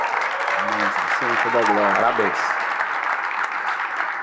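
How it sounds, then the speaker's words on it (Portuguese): Steady applause from a live studio audience fills the room while someone speaks briefly over it in Portuguese. "Eu quero uma salva de palmas para esse cara."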